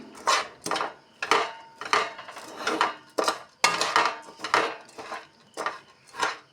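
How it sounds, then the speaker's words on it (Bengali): Flattened rice and cooked jaggery laddu mixture worked by hand in a bowl: a steady series of dry, crunchy scrapes and rustles, roughly one every half second, close and moderately loud, with no voices. "আস্তে আস্তে ভালোভাবে মিশিয়ে নিচ্ছি।"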